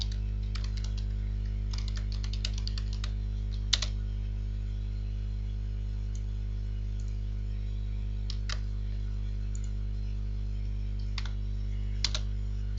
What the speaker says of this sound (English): now whatever command that I am typing, I can copy and paste it into the MySql prompt